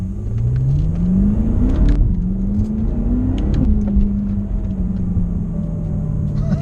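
A BMW F10 M5 fitted with an Akrapovic exhaust drives by, its engine droning steadily with rising and falling pitch as it accelerates, a loud continuous road rumble with no talking.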